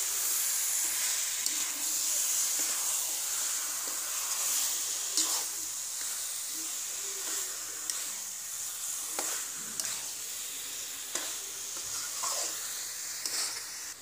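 Chicken curry cooking in a pot while being stirred, with a steady sizzle and steamy hiss throughout and faint scrapes of the spoon recurring every second or so, no voices.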